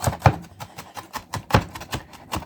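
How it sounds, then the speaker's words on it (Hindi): Onion being finely minced with a knife on a chopping board, quick uneven knocks of the blade, close and crisp, with no other sound around them. "प्याज का कीमा कर दिया है"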